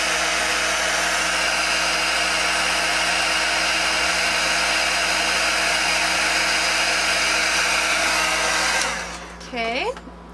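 A heat tool blows hot air to melt embossing powder, a loud continuous whirring roar lasting nine seconds before switching off, followed by a brief voice.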